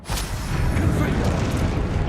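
A Confringo blasting spell explodes in the Hogwarts Legacy video game, a dense, sustained booming rumble with crackling debris that stays loud throughout the short burst, with some speech mixed in.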